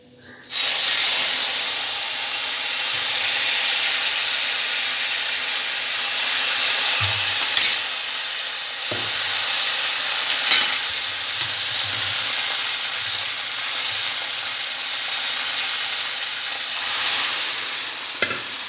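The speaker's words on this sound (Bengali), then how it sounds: "এখন সেই ডালটা আমি এখানে ফোড়ন দিয়ে দিচ্ছি।" Pea and pumpkin dal is poured into hot tempering in a pan, setting off a sudden loud, steady sizzling hiss that carries on with small bubbling shifts.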